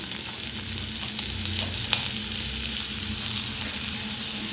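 Sliced onion frying in hot oil in a pan, sizzling loudly and continuously up close, with occasional light scrapes of stirring and no talk.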